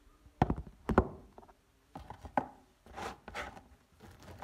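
A knife cuts through a loaf of bread on a board at breakfast preparation, giving several separate close thuds and taps spaced irregularly, with softer rustling cuts between them and no talk.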